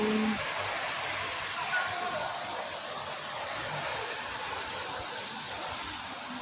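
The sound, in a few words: air conditioner running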